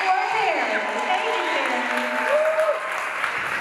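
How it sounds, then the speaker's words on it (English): An audience at a Camp Quality day in northwest Missouri gives Terry a warm round of applause, dense and steady clapping with some voices and cheers rising through it. "So please, one more round of applause."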